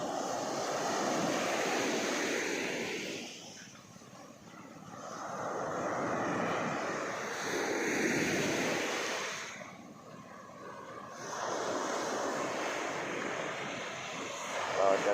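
A fixed-wing airplane roars near an airport apron beside a Phuket beach, its engine rising, easing and swelling again over the steady wash of surf.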